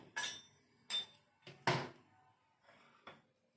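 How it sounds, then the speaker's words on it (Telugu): A kadai pan being set down on a lit gas stove: a few sharp metallic clanks and knocks spaced apart, fairly close and moderately loud, with no voices. "స్టవ్ వేసుకొని కళాయి పెట్టుకుందాం."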